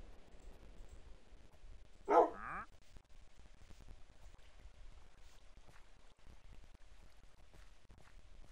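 A dog in a video game gives a single short bark, sharp but fairly quiet, over a low steady ambient hum.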